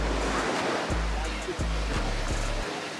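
Ocean waves wash and break continuously at the Cove beach in Ocho Rios, Jamaica, a loud close surf roar with rumbling swells and no pauses.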